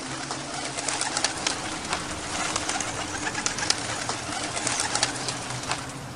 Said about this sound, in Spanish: Todos los pajaritos, que eran cientos, levantaron entre aleteos a Ain y se lo llevaron a volar